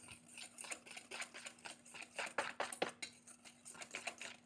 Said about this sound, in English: And then you'll just take your whisk and just mix it really well.